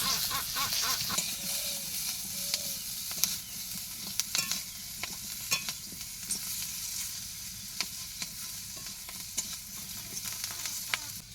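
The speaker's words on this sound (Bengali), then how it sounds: "আলুগুলো একটু ভেজে নিই একটু লবণ দিয়ে দে একটু হলুদ দিয়ে দিই লঙ্কা দিয়ে দে" Potatoes frying in oil with salt, turmeric and chili in a pan, a steady sizzle with scattered stirring clicks and scrapes of a spatula, close and fairly loud.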